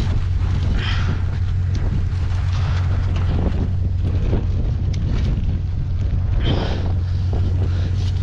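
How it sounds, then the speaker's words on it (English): Strong wind gusting across an open camp in the Mojave Desert, a steady loud roar buffeting the microphone with swelling surges, no voices heard. "What a fucking wind, dude."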